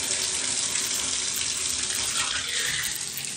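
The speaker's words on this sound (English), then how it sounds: "Okay, cold shower." Cold shower water running in a continuous loud hiss and splash, close by and steady, with no voices over it.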